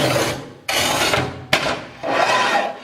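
A Montolit Masterpiuma P3 manual tile cutter, its wheel lubricated with WD-40, scores across a tile in three gritty rasping strokes, close and loud, each separated by a brief pause.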